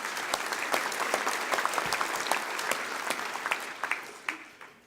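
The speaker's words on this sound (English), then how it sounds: "So once again, another round of applause for them," A room of guests at a mining awards ceremony applauds, many individual claps snapping sharply through a moderate, even patter that thins and tapers off near the end.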